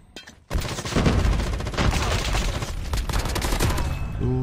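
Sustained rapid automatic fire from an AK47 in the Call of Duty Mobile shooter game, a dense, loud, continuous burst of shots rattling on for several seconds after a brief quiet start.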